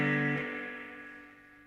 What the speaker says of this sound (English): Already noticeable distortion in the reverb.